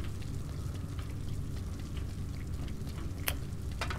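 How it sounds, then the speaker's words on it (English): Steady rain falls in a dark back street in Little Nightmares, a soft continuous wash of drizzle with occasional brighter drip ticks, constant and even throughout with no talk. "It's raining."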